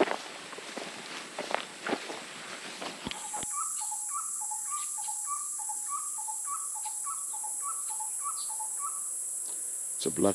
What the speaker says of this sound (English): It's a black-collared barbet.